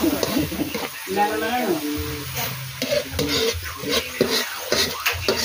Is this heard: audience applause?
no